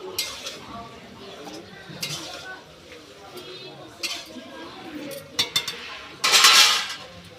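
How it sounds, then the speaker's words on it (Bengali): Ginger paste stir-fried with lentil powder in a pan, heard as scattered clinks and scrapes of a spatula against the metal, some in quick bursts, with a person talking in between. "আদা বাটা, এটা আমি আবার একটু ভালো করে কষিয়ে নেব"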